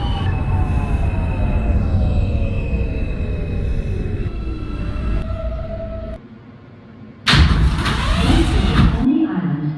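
An R160A Alstom subway train on the New York Q line runs in a simulated ride toward Coney Island, with a steady rumble, a rising and falling motor whine, brief wheel squeals and a sudden loud burst near the end.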